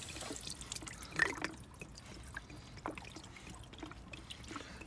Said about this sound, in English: I've got fresh coolant anyway, so I'm not bothered about what's leaking out